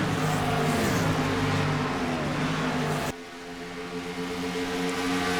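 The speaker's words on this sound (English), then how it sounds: "You hear him pedaling that gas as he goes through turns 3 and 4." Race car engine at the Indy track roaring loud and close as the driver pedals the gas through turns 3 and 4, with a rising-and-falling harmonic whine that suddenly drops in pitch and then steadies.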